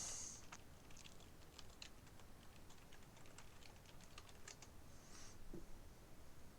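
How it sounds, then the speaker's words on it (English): Soft, steady keyboard typing with quick light key taps, faint and continuous against a quiet background hiss, no voices. "Sorry, it's a keyboard sound."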